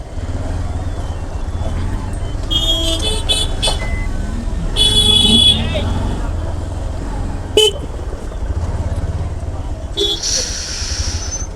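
Car horns toot repeatedly in dense, crowded road traffic in India, several short honks and one longer blast standing out over a constant engine rumble, with people talking nearby.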